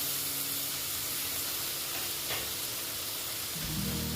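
Masala paste with a splash of water frying in a pan for a potato, pointed gourd and soybean curry, giving a steady, close hiss of sizzling with a slight swell near the end and no talking.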